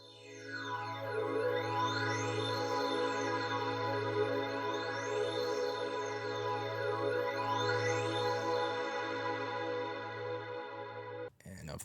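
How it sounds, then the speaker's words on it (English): A Korg M1 synth pad patch, PadMax 1, plays alone as a sustained, bright, evolving chord with slowly sweeping harmonics for about eleven seconds, steady and loud, then cuts off abruptly at the end. "it's a patch called PadMax 1 in the multi section of the Korg M1, another awesome VST."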